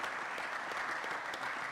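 Steady, dense round of applause from citizens at a city council meeting in Lawton, heard faintly and at a distance with no talk over it.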